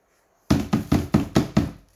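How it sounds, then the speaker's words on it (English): Six sharp, evenly spaced knocks as a spent espresso puck is banged out of the portafilter of a VBM Domobar Super Electronic espresso machine into a knock box, loud and close with nothing else heard. "So same thing, knock out,"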